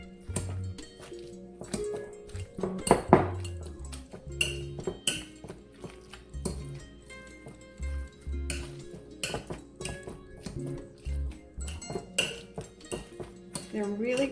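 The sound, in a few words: mashing potatoes in a pot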